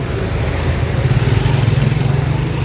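A decorated tractor's engine runs steadily at a festival bazaar, a loud, close, even low chugging with a slight pulsing throb throughout, no talking over it.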